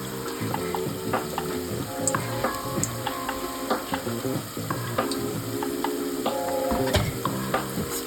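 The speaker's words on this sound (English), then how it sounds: "I just flatten it out a little bit as I put it in so that it fries more evenly." Jamaican festival dough fries in hot oil, a close, continuous crackling sizzle dotted with small sharp pops and clicks, with no one talking.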